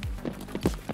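Quick footsteps on a wooden floor in the video game Escape from Tarkov: a handful of muffled thuds in a fast running rhythm, moderately close, over one second.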